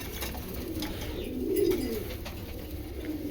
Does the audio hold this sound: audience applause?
no